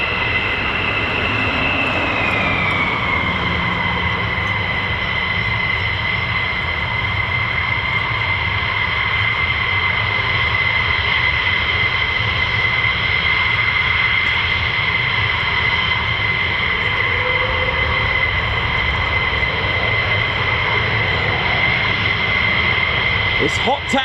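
Fighter jets, US Air Force F-15 or F-35, taxiing at RAF Lakenheath give a loud, steady engine roar with a sustained high whine throughout, close by, with faint talk underneath.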